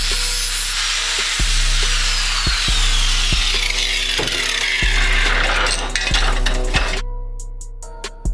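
A power tool fitted with a sandpaper flap wheel smooths an H2B header, giving a steady high whine with grinding scrape and periodic knocks, close and loud, then cutting off abruptly near the end.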